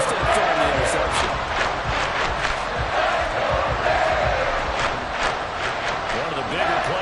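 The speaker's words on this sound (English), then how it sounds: "The crowd getting into it as we come up on a big 3rd down." Large football stadium crowd roaring ahead of a big third down, a dense continuous wall of cheering and shouting that stays loud throughout, with a commentator's voice over it.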